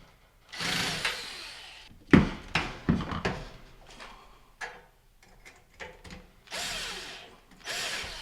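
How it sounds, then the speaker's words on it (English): Power drill fitted with a screwdriving bit runs in short whirring bursts while driving screws into a GE stove power block, with clicks and knocks between the revs, close and fairly loud. "So we'll just get those screws started. Get a screwdriving bit."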